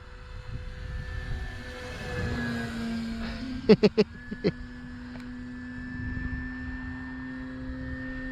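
A small E-flite Carbon Z Cessna 150T RC model plane's engine drones with a thin, steady whine, its pitch dropping as it passes; a few sharp clicks sound midway.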